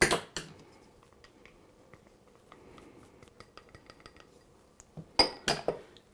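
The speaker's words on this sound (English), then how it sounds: "we are going to whisk in the 1/2 cup of sugar" Whisk striking a bowl while sugar and cornstarch are mixed in, soft rapid metallic clinks and scrapes at close range, with louder clattering bursts at the start and end.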